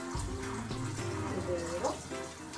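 Running tap water while grass peas are washed in a kitchen sink for a soup, a constant rushing splash throughout, close by, with a low hum and speech underneath.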